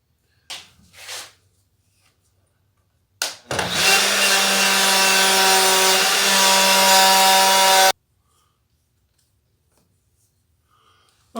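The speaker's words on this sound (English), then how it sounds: "now that the fitting the router plate, or routing out the top, is finished" A 1/2 inch router routing out a table top for a router plate, a loud steady high whine lasting about four seconds after brief handling noises, then cutting off to silence.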